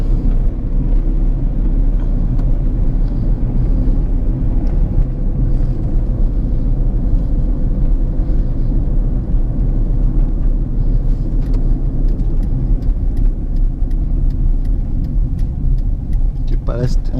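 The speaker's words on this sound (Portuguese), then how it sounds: "Quero escutar o barulho da suspensão do carro mesmo." A Hyundai HB20 rolls along an uneven street with a worn suspension part, giving a steady low road rumble with faint knocks beneath it and a brief sharper creak near the end.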